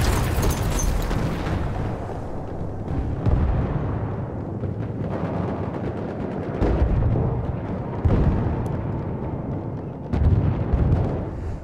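A grenade blast in the video game Battlefield 1 on the Tsarytsin map lands amid loud, continuous battle noise, with booming explosions swelling repeatedly over a dense rumbling din.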